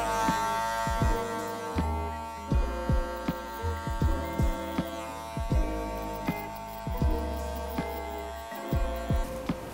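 Electric hair clippers run at close range during a high fade haircut, giving a steady buzzing hum broken by repeated short clicks and taps.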